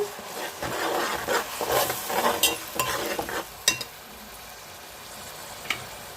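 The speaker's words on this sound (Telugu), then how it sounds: "ఈ ఉల్లిపాయ ముద్ద మసాలా ముద్ద బాగా వేగిపోవాలి" Onion and masala paste fry in a pan for fish curry, with soft sizzling and scraping stirs that fade to a quieter simmer, punctuated by a few sharp utensil clicks.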